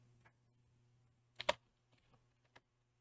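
Keystrokes on a computer keyboard while typing a command, a few quiet taps around one louder cluster of clicks in the middle, close up in an otherwise still room with a low hum.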